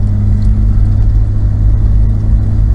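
A 1991 Ford Explorer with an A4LD automatic transmission driving on a main road in low gear, a steady loud engine rumble and drone from inside the cabin, with no talking.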